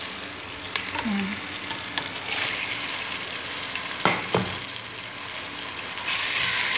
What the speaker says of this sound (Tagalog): ilagay na natin yung chicken